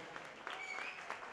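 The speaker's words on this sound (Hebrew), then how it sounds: "מחיאות כפיים להורים, מגיע להם" Wedding guests applaud the parents with steady, fairly faint clapping spread through the hall, a continuous patter with no clear break.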